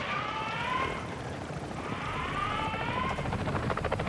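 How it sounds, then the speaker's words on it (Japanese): Enemy helicopter in the game Call of Duty DMZ, a steady rotor roar with whining tonal sweeps rising and falling over the whole span, fairly loud with battle noise around it. "敵 のヘリじゃん"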